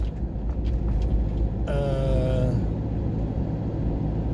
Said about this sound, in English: Now I'm driving along the coast